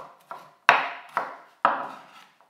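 A knife chops red and green peppers on a board, giving about five distinct sharp thunks at uneven spacing, close and clear with no talking.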